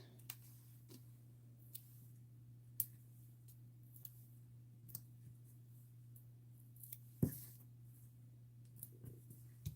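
Scissors cut card-making pieces with sparse, quiet snips and clicks spaced irregularly, one sharper snip standing out, close by over a steady low hum with no talking.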